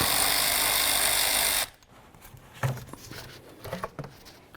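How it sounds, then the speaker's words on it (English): An air inlet hose clamp on a 5th generation Caravan is loosened with an 8mm tool. A loud, steady mechanical whir lasts about a second and a half, then gives way to quieter clicks, taps and handling noises. "Just loosen up the clamp right there."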